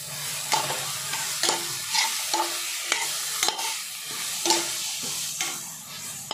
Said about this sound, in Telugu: సోయా చంక్స్ కూడా వేసేసి ఒక 5 minutes ఫ్రై చేయాలి.